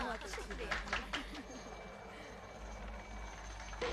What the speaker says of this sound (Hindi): रिहायशी इलाकों के ऊपर हेलीकॉप्टर उड़ाना बैन कर देना चाहिए।